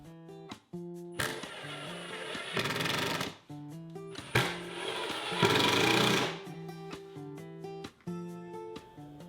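Screws driven into a plywood shoe rack with a power drill, 1¼ inch screws, two long loud whirring bursts close by, each ending in a short higher-pitched squeal as the screw seats, with music playing throughout.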